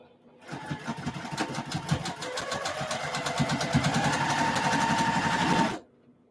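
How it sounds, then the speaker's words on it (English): A sewing machine runs in one continuous stitching burst, its rapid needle rhythm speeding up and holding steady for about five seconds before stopping abruptly, close and fairly loud. "Before I sew all of them, I'm going to check this."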